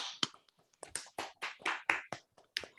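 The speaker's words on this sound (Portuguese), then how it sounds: "Vamos abrir uma salva de palmas novamente aí para o Anderson" A small audience clapping in short irregular bursts of a few claps each, sparse and close, with gaps of silence between, at a talk on the dynamical Casimir effect.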